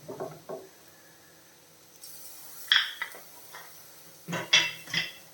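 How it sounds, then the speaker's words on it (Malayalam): A spoon scrapes and clinks against a pan while bitter gourd and carrot curry with coconut is stirred and mixed, in short bursts with quiet gaps and a faint sizzle beneath. "എല്ലാം കൂടെ നല്ല രീതിയിലൊന്ന് മിക്സ് ചെയ്തേക്കാം"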